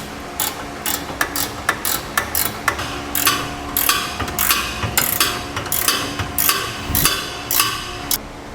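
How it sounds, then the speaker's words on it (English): A hand ratchet tightens the bolts holding the center section to the rails of a B and W Companion underbed hitch kit on a 2017 GMC Sierra 2500, with rapid rhythmic clicking bursts repeating close and loud throughout and no voices. "now we'll tighten down all of our bolts securely that hold our center section to our"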